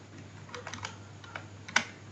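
Keys on a computer keyboard entering an Omron PLC ILC instruction, heard as faint, sparse keystrokes over a steady low hum, ending with one slightly sharper click.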